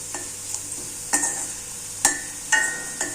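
Vadam seasoning fries in a pan with a constant soft sizzle. A spoon scrapes through it in several distinct strokes, close up.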